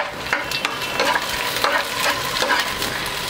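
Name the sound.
sautéing long cut green chillies for fish fry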